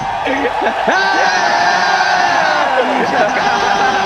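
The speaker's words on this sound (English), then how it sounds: "Wait, the crowd is yelling." A large crowd at an Apex Legends world championship event roars and cheers loudly and continuously, with scattered whoops and yells rising above the steady din.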